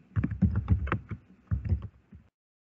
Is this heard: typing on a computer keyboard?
yes